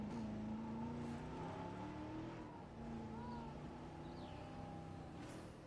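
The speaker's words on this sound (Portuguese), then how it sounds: "Deixa eu pegar o Jeep aqui e entrar lá pra gente ver os bichos mais de perto." A Jeep drives through a dinosaur park in the video game Jurassic World Evolution, its engine a steady, continuous hum whose pitch rises and dips slightly as it moves.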